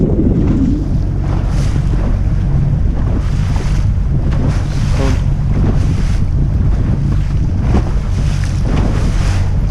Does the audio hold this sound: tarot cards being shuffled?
no